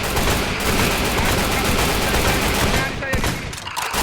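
Gunfire from a battle royale game during a tournament qualifying match on the Purgatory map: dense, continuous bursts of shots crackling loudly through most of the stretch, thinning briefly near the end.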